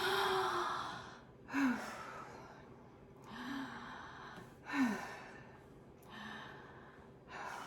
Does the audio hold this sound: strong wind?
no